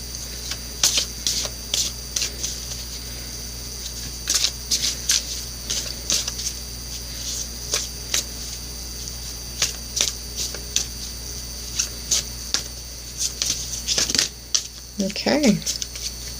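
Oracle cards are shuffled by hand, a run of quick, close riffling bursts in an uneven rhythm over a steady background hiss, with a voice speaking briefly near the end.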